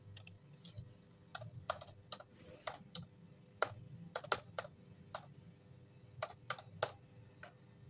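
Typing on a computer keyboard while entering text into Illustrator CC for a business card design: irregular clusters of crisp keystroke clicks spread across the clip, fairly close, over a low steady room hum with no talking.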